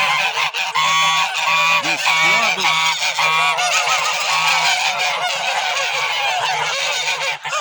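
A flock of domestic geese honking loudly and continuously, overlapping nasal calls filling the whole stretch, with a brief spoken phrase partway through.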